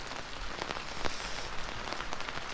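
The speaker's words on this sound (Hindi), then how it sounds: "बारिश देखो, इतनी बारिश लगी है ना, बुरी कंडीशन है, बुरी।" Heavy rain pours down steadily, a dense, continuous hiss of drops striking surfaces close by, with occasional louder spatters and no talking.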